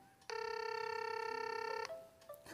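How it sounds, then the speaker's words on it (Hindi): An incoming call rings on a smartwatch and phone together, a single electronic tonal ringtone lasting about one and a half seconds, clear and close in a quiet room. "फ्रेंड्स यहाँ पे देख सकते हैं कि हमारे नंबर पे कॉल आ चुका है"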